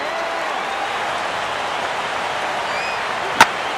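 Steady roar of a large stadium crowd of over 39,000 standing and cheering in the baseball video game MLB The Show 15, Houston at New York Yankees, a continuous wash of noise with one brief sharp crack near the end.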